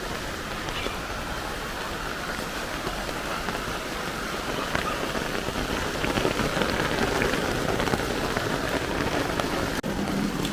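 Steady rain patters densely on surfaces around a house, a continuous close hiss that swells slightly louder toward the end.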